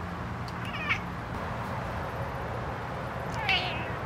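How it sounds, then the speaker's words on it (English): A house cat sitting in a doorway gives two short meows, about three seconds apart, over a steady low room hum. "the cat's sitting in the doorway"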